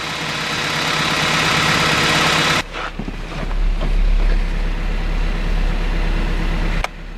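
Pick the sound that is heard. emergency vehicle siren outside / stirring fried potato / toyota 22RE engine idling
toyota 22RE engine idling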